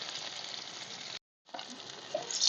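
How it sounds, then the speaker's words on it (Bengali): Fish fries in hot oil with a steady bright sizzle, broken by a short pause before the crackling resumes and grows louder toward the end. "মাছগুলো ভাজা হয়ে গেছে"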